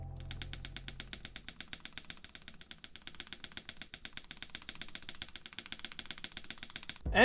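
A mechanical keyboard with modded stabilizers is pressed in a fast, even stream of crisp clicks, roughly seven per second, close and moderately quiet, ending in a louder thump.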